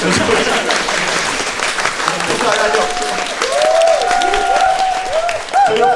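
A theater audience applauds steadily at a stage greeting after a performance of the play 'Deathtrap', with dense crowd clapping continuing while a person talks over it.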